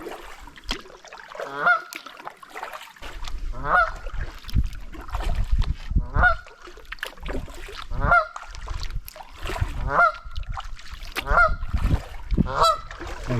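Goose honking near a river confluence during a solo canoe trip, a loud, repeated series of harsh honks spaced every couple of seconds, close by over low water and paddling noise.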